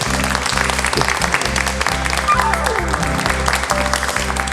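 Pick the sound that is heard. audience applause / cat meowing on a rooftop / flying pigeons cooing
audience applause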